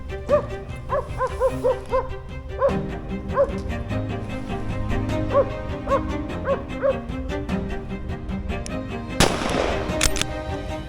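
Dogs bark repeatedly in a yapping, hound-like rhythm during a driven hunt for wild boar among dense spruce on Ślęża near Sobótka, Poland, with one loud, sharp gunshot cracking out near the end.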